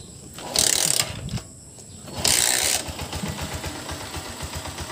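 A cold Motorstar TMX 125 motorcycle engine cranks and catches in two bursts of revving, then settles into an uneven, sputtering idle.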